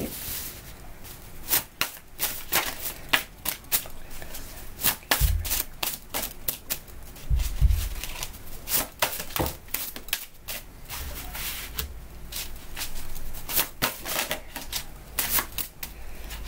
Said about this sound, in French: Je vais tirer 3 cartes de l'oracle de la sagesse.